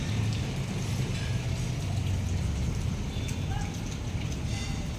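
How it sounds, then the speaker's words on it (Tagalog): Rain falling outdoors makes a steady, even hiss over a low background rumble, continuous and moderately loud for the whole stretch, with no one speaking. "Ayan guys, umuulan."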